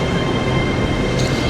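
An LNER train rumbles steadily at a station platform, a loud continuous low roar of wheels and carriages with a faint squeal near the end, no talking.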